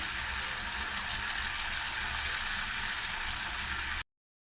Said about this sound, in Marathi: बिरडी चांगली तळून आली आहे